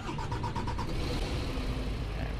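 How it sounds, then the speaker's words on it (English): A bus engine in the Fernbus Simulator video game cranks with a few rapid rhythmic turnover pulses, then catches and settles into a steady low idle rumble, moderately loud and close. "Let's start her up, shall we?"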